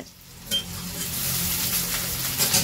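Onions and green chilies frying in a pan in a village kitchen, a steady close sizzle that swells after a sharp start and keeps hissing evenly.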